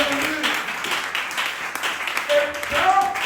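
A church congregation claps for Jesus during a sermon, steady dense applause filling the room with a few voices calling out over the clapping.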